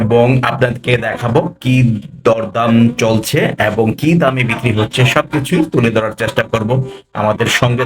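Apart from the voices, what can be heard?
No everyday noises stand out.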